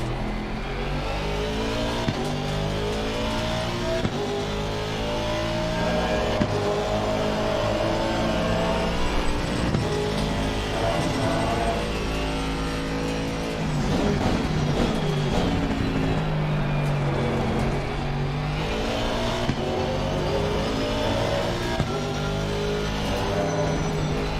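Race car in a racing video game lapping a track, its engine note droning and rising and falling steadily through gear changes, with brief tire squeal near the middle and no talk over it.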